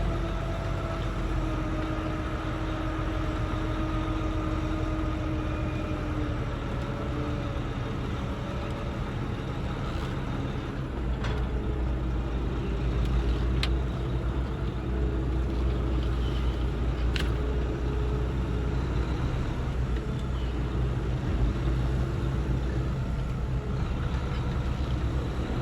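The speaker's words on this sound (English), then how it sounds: "That way I have enough room for my tractor to swing around." Semi truck tractor engine running while backing a trailer into a loading dock, a loud, steady, continuous rumble that holds for the whole stretch without talking.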